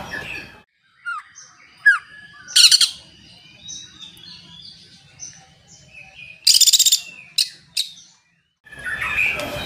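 A cucak ijo (green leafbird) sings in bright, separate bursts of chirps and trills with short quiet gaps between, close and clear, no voices.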